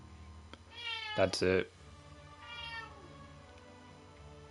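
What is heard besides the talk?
cat meowing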